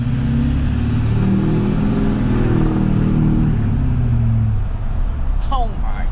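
A diesel pickup truck engine revs loudly and close, a deep rumbling roar that holds then eases off, with a brief squeal near the end.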